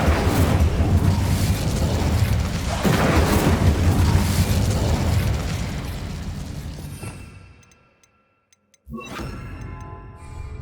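The Incendio fire spell in the video game Hogwarts Legacy gives a loud, roaring burst of flame that rumbles for several seconds and fades to silence, followed by a sharp crackling impact.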